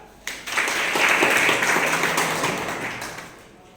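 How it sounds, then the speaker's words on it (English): Audience at a lecture on professional communication breaking into applause, a loud, close burst of dense clapping that swells quickly, holds for about three seconds, then tapers off. "Clap."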